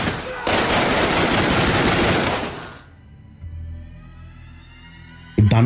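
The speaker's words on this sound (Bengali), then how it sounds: "উপরই বেশ কয়েকটা গুলি চালালাম।" Rapid revolver gunfire crackles as a dense burst of shots lasting a few seconds, followed by quieter background and another sharp loud blast near the end.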